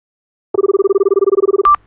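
A telephone rings with a loud, rapid electronic trill lasting about a second after silence. It ends in a short, sharp beep.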